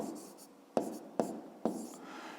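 A pen writing numbers on paper while working a fifth-grade math exercise: soft, close scratching punctuated by three crisp, distinct strokes, faint and quiet with no talking.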